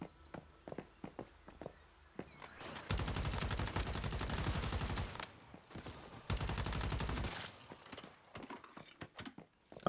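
Defensive turrets at a cliffside base in the game Once Human fire in two long, loud bursts of rapid automatic gunfire. Scattered sharp shots come before, between and after the bursts.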